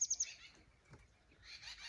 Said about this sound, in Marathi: आणि हा पक्ष्यांचा किलबिलाट मॉर्निंगमध्ये